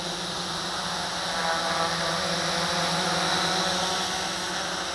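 An ATG X700 X6 hexacopter with carbon props and a folding frame hovers close by while being trimmed, giving a steady, loud whirring drone of spinning rotors that holds evenly throughout with slight swells, no voices.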